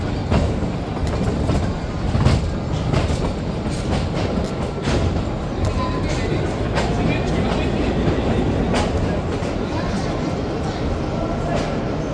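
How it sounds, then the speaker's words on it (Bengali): The Kalka-Shimla toy train rolls into Shimla station with a loud, steady rumble and rhythmic clattering of wheels over rail joints, filling the whole stretch without letup. "ট্রেন কিন্তু স্টেশনে একদম ঢুকে পড়েছে"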